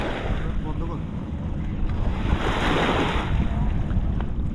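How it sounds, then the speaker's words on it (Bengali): Waves wash in continuously at Mayabi Char, a lakeside beach in Rangamati, a loud rolling surf roar mixed with heavy wind buffeting the microphone. "ঢেউ এই যে আমাদের মায়াবী চরের ঢেউ"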